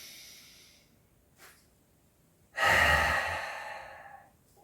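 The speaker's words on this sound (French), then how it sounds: "Je souffle." A single strong, breathy exhale during a floor exercise that lifts one leg while reaching with the opposite hand. It follows a faint earlier breath, is close and fairly loud, and fades over about two seconds.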